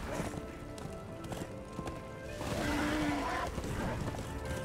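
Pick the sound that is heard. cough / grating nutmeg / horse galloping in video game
horse galloping in video game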